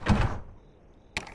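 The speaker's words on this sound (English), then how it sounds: "Close that door." A door closes in the horror video game Fear The Moon: a muffled thud, then about a second later a sharp latch click, heard alone in a quiet room.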